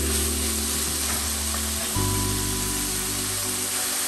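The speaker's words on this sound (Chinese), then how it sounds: "下入苦瓜条，继续翻炒均匀" Dried bitter melon strips stir-fried with pork in a wok, a soft continuous sizzle with faint scraping and a steady hum underneath, no voices.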